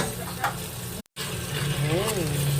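Corned beef and onions frying in a pan give a steady hiss and crackle, broken by a brief total dropout, with a voice speaking over the cooking near the end.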